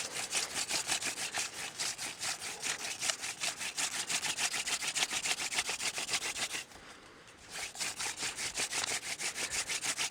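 A wooden spindle spun by hand on a wooden board for friction fire gives a loud, rapid, rhythmic grinding rasp. The strokes go on steadily, with one brief pause partway through before the grinding resumes.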